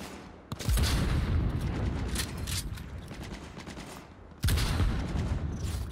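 Gunfire in Cyberpunk 2077: two heavy, booming bursts of sustained automatic fire, loud and close, one from under a second to over four seconds, then a second starting near four and a half seconds, with a brief lull between.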